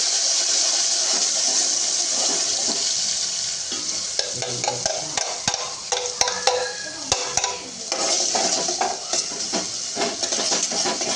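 Tempering of turmeric, cumin and bay leaf sizzles in a pan, a loud, constant frying hiss broken by clinks and scrapes of a spoon stirring against the metal.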